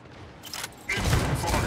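Incoming weapon fire in a Mech Arena free-for-all match starts as a quiet clatter, then breaks into a loud, dense barrage of blasts and impacts.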